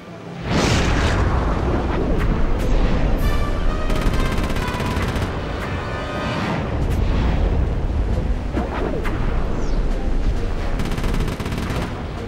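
Missile explosions and blasts in the stealth action game Sly 3, a dense, loud barrage of booms and cracking impacts over a continuous rumbling roar.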